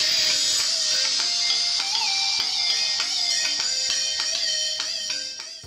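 Music plays through the small built-in speaker of a Fire-Boltt Talk 2 smartwatch indoors, a steady tinny melody with regular rhythmic notes at moderate volume that fades slightly at the end, no talking.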